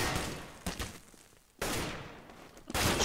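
Rapid gunfire from a Counter-Strike match on de_mirage, a player having switched to an AK rifle; loud bursts of shots with a short lull between them, close and dense.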